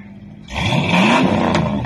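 A Ford truck engine revs once, surging up from a low idle into a loud, rising roar that holds briefly.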